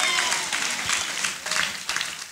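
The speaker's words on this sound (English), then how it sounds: "Clap your hands for Jesus Christ." A church congregation in a Nigerian service claps hands for Jesus Christ, a dense crowd of clapping with some rhythmic accents and faint voices mixed in, moderately close.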